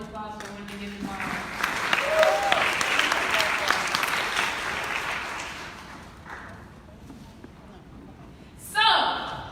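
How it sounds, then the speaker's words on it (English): A church audience claps together in a community gathering, a broad wash of applause that rises after a brief spoken prompt, gradually thins out, and gives way to a voice near the end. "Give yourselves a round of applause for when you get involved"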